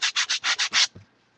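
Sandpaper rubbed rapidly across a paper craft album page, six quick, even rasping strokes close up in a steady rhythm, followed by a soft thud and near silence.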